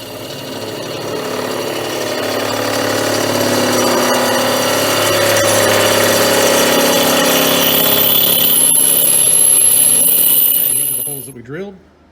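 An electric drill bores through sheet metal while building a DIY slip roll, a loud, sustained high whining grind that holds steady for about eleven seconds before spinning down, with a brief voice at the very end.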